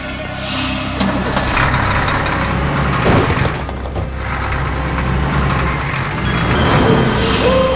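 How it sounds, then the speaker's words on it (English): A heavy cartoon fire truck rumbles and idles near at hand, a dense, continuous engine roar with faint clunks and hisses and no clear siren, all without speech. "Fire truck."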